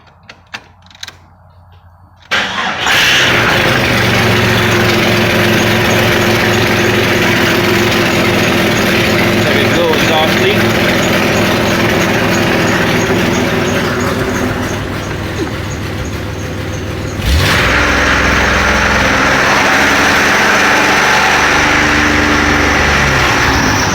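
Small engine with a knock, quiet clicks at first, then it starts abruptly and runs loud and steady with a dense rattling clatter, dips briefly near the end and picks back up, with no talking.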